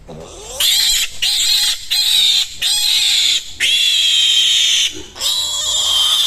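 A male pig squeals loudly while being caught in a pen, in a run of five or six shrill, drawn-out squeals with short pauses between them, close and dominant.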